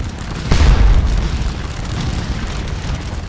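A single heavy boom of artillery fire from the Napoleonic battle game Scourge of War: Waterloo, striking hard near the start and then fading into a sustained low rumble of battlefield ambience.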